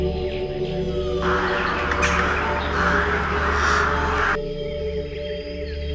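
A Congo rainforest bird gives harsh, crow-like cawing calls for a few seconds, rising out of a steady dense bed of forest insect and bird ambience that continues before and after.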